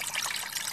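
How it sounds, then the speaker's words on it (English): Sample water trickling through a filter during an ATP-metry test, a faint, brief splashing dribble with no voices. "First, filter the sample water."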